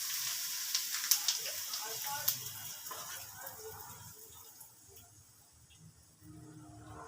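Asafoetida dropped into hot oil in a pan while making green tomato pickle, giving a soft, hissing sizzle that slowly fades, faint and close.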